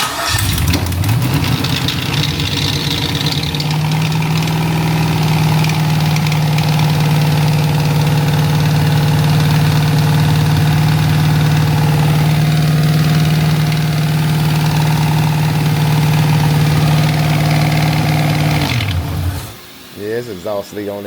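An LS-swapped G-body Oldsmobile Cutlass idles steadily and loud up close, with a ticking exhaust leak on the left side and a low drone that holds for about eighteen seconds before cutting off, followed by a brief clatter.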